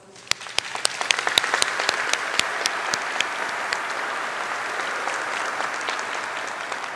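A crowd at a State College of Florida winter commencement breaks into a full round of applause that swells within the first second and holds strong and steady, with sharp individual claps standing out near the front.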